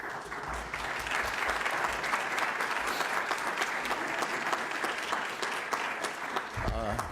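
Sustained, dense applause fills a room at a Cannabis Control Commission public meeting in honor of executive director Sean, holding steady and loud throughout.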